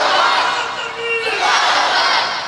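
A crowd at a Bengali Islamic sermon gathering roars a takbir together, a loud sustained mass shout of many voices that swells, dips briefly, then rises again.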